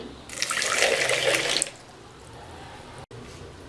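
Water splashes and pours briefly into a bowl of sugar for over a second, then stops, leaving quiet room tone.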